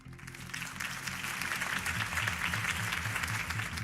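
A crowd applauds after a campaign speech in the Batman Telltale video game, a dense, steady wash of clapping that swells in and holds loud for several seconds.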